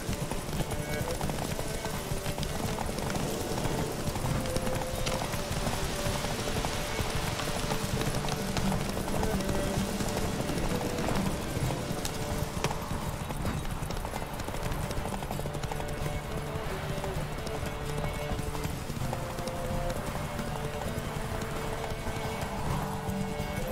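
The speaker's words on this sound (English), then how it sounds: "Run, Roach. Faster! You're trailing." Horse hooves clip-clop and gallop steadily throughout a stretch of The Witcher 3 gameplay, with occasional whinnies and a voice talking over the rhythmic, fairly loud hoofbeats.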